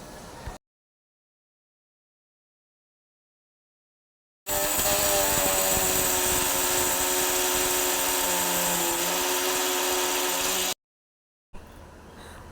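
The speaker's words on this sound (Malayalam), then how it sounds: "എന്നിട്ട് ഇതിൽ കുറച്ച് പുതിനയുടെ ഇല കൂടി ചേർത്തിട്ട് ഒന്ന് അടിച്ചെടുക്കുന്നുണ്ട്." Electric kitchen mixer blending mint leaves with lemon juice, a steady loud whirring motor running for about six seconds between silent gaps.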